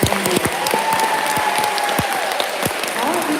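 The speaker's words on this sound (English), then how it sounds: "so let's give her a big round of applause" An audience at a school awards ceremony claps steadily, a dense close patter of many hands with brief murmurs underneath.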